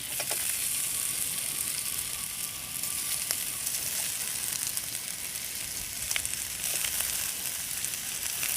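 Mashed boiled potato sizzles steadily in a pan as it is fried with spices for a healthy breakfast snack, with a constant hiss and occasional faint scrapes from stirring, and no voices.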